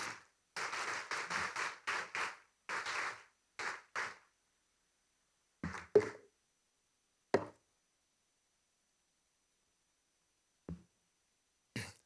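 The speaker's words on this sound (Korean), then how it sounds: "나오실 때 우리 박수로 맞이하시기" An audience at a Christian business leaders' convention morning devotion gives quiet bursts of applause to welcome a speaker, with several short clapping spells followed by scattered isolated claps and long silences.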